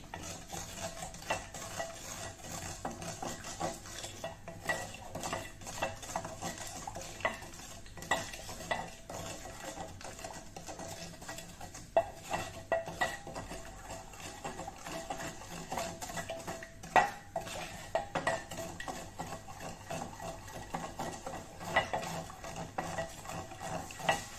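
Jaggery syrup cooking in a pan while a spoon keeps stirring: a long, continuous run of scraping and clinking strokes, close and steady, over a faint bubbling hiss.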